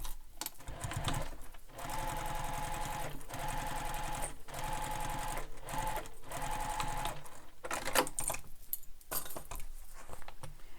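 Sewing machine stitching a backpack, running steadily and close with brief pauses, accompanied by light clinks and rattles of fabric and parts, no voices.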